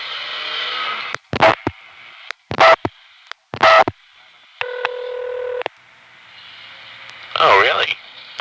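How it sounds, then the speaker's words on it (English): Short electronic tone bursts and a steady multi-tone signal play on a telephone line into a Bell #355 step-by-step switching office in Wellfleet, MA. The sounds are separated by silent gaps, and a voice can be heard near the end. "Now I'll dial 7."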